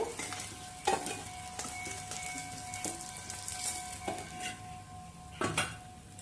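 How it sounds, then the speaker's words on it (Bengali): Rui fish fries in hot oil in a pan, a steady crackling sizzle with occasional metallic clinks and scrapes of a utensil against the pan. "এবার মাছ ভালো করে ভেজে তুলে নেব"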